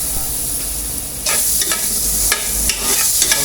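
Butter melts in a hot pan while beef tongue is prepared, giving a close, continuous bright sizzle with a few crackling bursts and stirring scrapes, and no talking.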